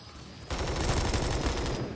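Sustained rapid automatic fire from an MG4 machine gun in the video game Bullet Force, a loud dense burst of gunshots starting abruptly and continuing without pause.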